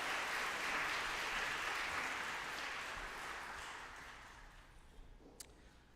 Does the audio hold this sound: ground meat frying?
no